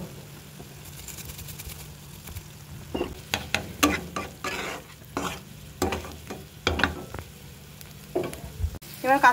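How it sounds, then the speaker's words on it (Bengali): Onion frying lightly in a pan, with a low background sizzle under repeated sharp scraping and clattering strokes from stirring at an irregular rhythm; no one talks. "পেঁয়াজটা হালকা করে ভেজে নিই, গোলাপি রঙ আসবে।"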